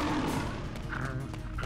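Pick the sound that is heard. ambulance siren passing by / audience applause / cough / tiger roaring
tiger roaring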